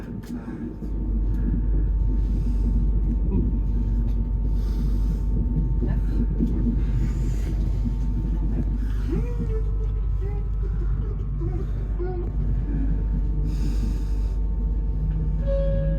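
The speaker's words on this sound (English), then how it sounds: "this is of course the quietest train that one can take into London from Stevenage" Inside an LNER InterCity 225 Mark 4 carriage as the train departs Stevenage toward London, a steady loud low rumble and rolling rail noise build and hold, with faint voices over it.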